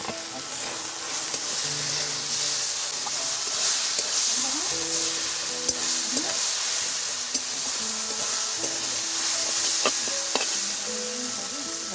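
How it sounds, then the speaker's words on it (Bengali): Ground ginger, garlic, chilli and turmeric paste sizzles loudly among fried onions over a clay wood-fire stove in a village kitchen, a constant close frying hiss with occasional scrapes and clicks and a voice speaking underneath. "এই মশলাটা আমি এবার দিয়ে দিচ্ছি এই ভাজা পেঁয়াজের মধ্যে"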